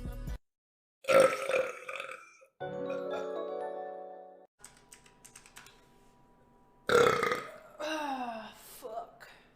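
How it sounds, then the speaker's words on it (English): A woman streamer lets out loud, drawn-out burps at a desk, several separate belches with short pauses between them, mixed with keyboard typing. "I have to burp."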